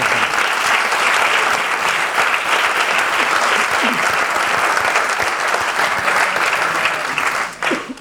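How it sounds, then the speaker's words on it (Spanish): An audience at a book presentation applauds steadily for several seconds, a dense wash of clapping from many hands that fades away at the end. "Otro aplauso para Salvador Fojón."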